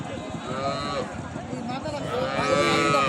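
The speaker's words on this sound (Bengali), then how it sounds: "পাশে ছোট্ট একটা বাচ্চা সহ আর একটা চমৎকার গাভী এই যে দেশাল গাভী" A cow lows at a village cattle market, a long deep moo rising over the crowd's murmur, with people talking nearby.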